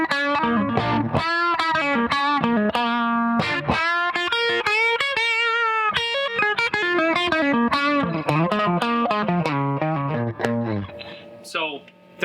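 An electric guitar played through a PedalPCB Spirit Box DIY reverb pedal, with clear melodic phrases and chords carrying a reverb tail that swells and fades between notes, loud and close, with no talking.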